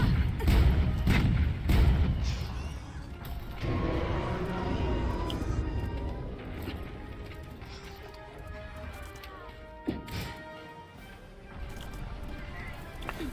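Cannon fire in Monster Hunter World, with heavy booms and thuds at the start and again near the end, mixed with game clatter and someone talking over it.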